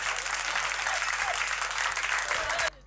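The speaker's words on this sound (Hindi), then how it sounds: "एक बार तालियां बजा दो जरा जोरदार" Audience at a Hindi poetry event breaking into loud, sustained applause, a dense continuous clatter of many hands that cuts off abruptly near the end, with a low hum underneath.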